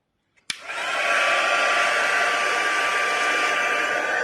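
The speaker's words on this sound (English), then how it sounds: "so heat gun" A heat gun switches on with a click and runs as a steady, close, continuous roaring blow over embossing powder, with no talking.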